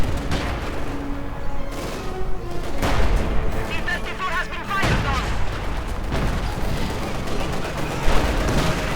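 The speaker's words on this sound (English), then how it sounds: "And the howitzer really hasn't hit anything. He needs to be a bit careful about shooting that close." Howitzer artillery fire in Company of Heroes 2 booms through a dense battle mix of gunfire and explosions. The shots are loud and frequent, and a commentator talks over them.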